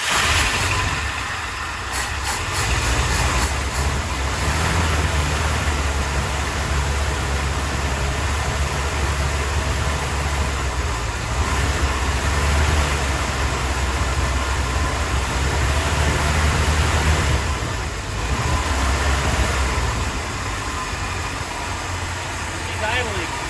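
A 1968 Ford F250 engine with a smoky, neglected condition cranks over and catches, then runs in a steady loud rumble at close range, with a brief rhythmic cranking burst near the start and a voice speaking over it.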